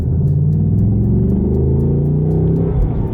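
A Ford Mustang Dark Horse with a manual gearbox revs and holds a deep, throaty roar, rising slightly in pitch, close to the microphone with no talking.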